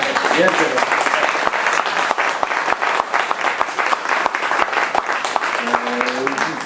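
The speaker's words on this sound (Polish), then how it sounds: "Proszę o brawo dla niej." A live audience applauds the speaker's fiancée Marta at an award ceremony, steady dense clapping throughout with a brief voice over it.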